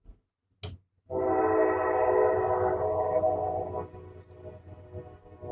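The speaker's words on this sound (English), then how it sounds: "Train." Freight train horn blaring a long, sustained chordal blast after a couple of brief clicks, loud and fairly near, then fading as the train rolls on with low rumbling and no talk.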